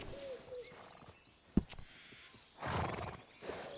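A horse in Red Dead Redemption 2 whinnies loudly in a short burst, then snorts, with faint hoof clops around it; no one talks.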